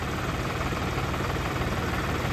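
Engine of a newly bought maize cutting and harvesting machine running in a field, a loud steady droning rumble with constant low vibration, unchanging throughout and no talking.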